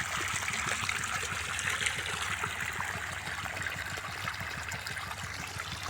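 Water trickles slowly and steadily through a pipe from a pump onto a grass field, a continuous soft splashing flow with no voices.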